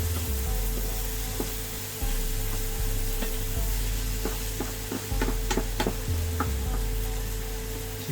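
Garlic sizzles steadily in a hot pan while cooking ful medames (fava beans), a constant frying hiss with scattered small pops and ticks throughout.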